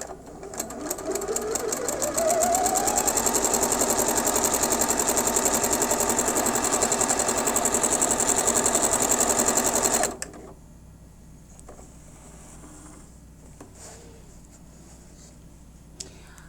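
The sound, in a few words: sewing machine stitching a cross seam for quilting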